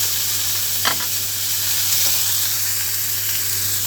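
Thinly sliced garlic and ginger sizzling in a hot pan, a loud continuous close hiss with brief stirring scrapes near the start and a constant low hum underneath; no talking.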